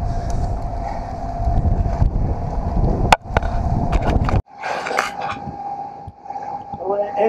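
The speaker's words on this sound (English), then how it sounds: "Well, the engine seems to be going okay" A small boat engine, prone to overheating, drones steadily with a low rumble and a constant hum, with a few sharp knocks and clatters; wind and water noise around it.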